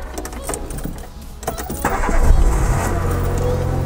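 A Renault Twingo engine cranks and catches near the microphone, then settles into a steady low idle hum after a brief rev, with faint clicks before it starts.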